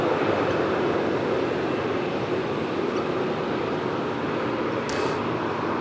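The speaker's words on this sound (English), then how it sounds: "Two aircraft simultaneously taxiing southbound on the adjacent taxiways here on the eastern side" Two aircraft taxiing side by side on adjacent taxiways at Sydney Airport, giving a steady, broad jet-engine rumble and whine that holds constant throughout at moderate distance, with no voices.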